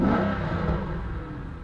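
A 2003 Ford XR8 Ute with a 5.4 litre V8 revs close by in one short, loud engine burst whose deep roar tapers off, heard alone with no talking.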